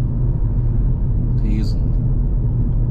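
A car driving in along a street from Burg to Theeßen in Germany, a low steady engine and road rumble running throughout, with a brief voice partway through.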